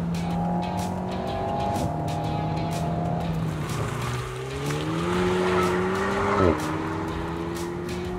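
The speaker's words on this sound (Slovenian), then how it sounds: "Pihanje in žvižganje in kihanje turbine in pokanje in brbotanje v izpušni cevi." An Alpine A110 engine revs and changes pitch under load, with a turbo whistle riding above the engine tone and intermittent exhaust crackles and pops, sustained and close.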